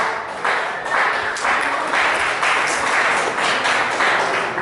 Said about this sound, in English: Let's give Vintage Villains a big round of applause.